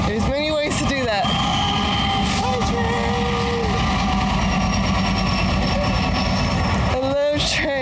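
A train passes close by as a loud, continuous rumble and rattle that fills the whole stretch, with voices briefly at the start and end.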